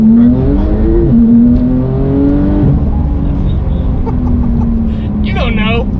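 A brand-new Lamborghini supercar's engine and exhaust drone steadily on a road rally, the pitch climbing and falling as revs shift, close and loud, with voices present.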